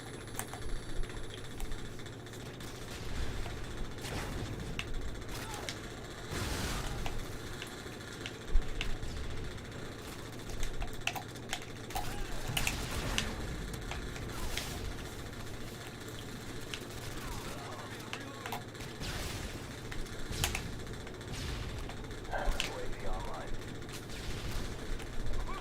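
Bursts of MG4 machine gun fire in the video game Modern Warfare 2 crackle repeatedly over a steady background hum, the rattling volleys sharp but fairly quiet and spread across the whole stretch.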